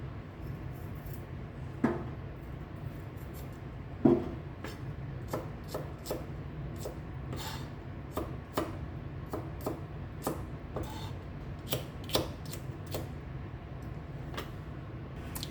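Knife chopping onion on a board: sparse, irregular sharp taps spread across the span, a couple of louder knocks near the start, over a steady low kitchen hum.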